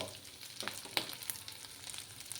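Dry fish with potato and brinjal fry in a pan, giving a faint, steady crackling sizzle with a few sharper pops and light stirring.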